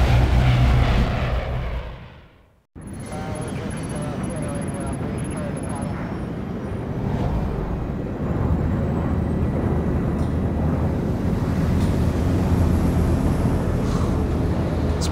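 Steady low engine drone inside an airplane cabin in the Splinter Cell: Blacklist video game, a continuous rumble after a brief drop-out, with voices talking over it.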